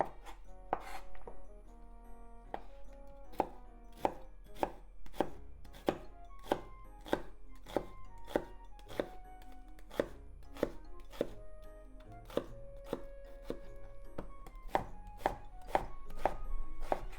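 A knife slices through an onion on a cutting board in a steady run of crisp, evenly spaced chops, close and clear with no talking.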